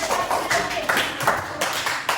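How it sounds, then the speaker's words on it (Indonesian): A classroom of Indonesian students claps hands briefly, a short burst of scattered claps from a group in a room, close and lively. "Tepuk tangan."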